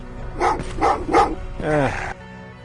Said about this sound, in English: what's with the dogs?